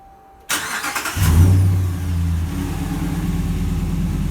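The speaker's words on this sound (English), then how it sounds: "push the lock button 3 times and it'll crank the engine up" A 2016 Dodge engine is cranked by its factory remote start after a quiet moment, with a sharp starter whir, a rising catch and rev, then settling into a steady, loud idle.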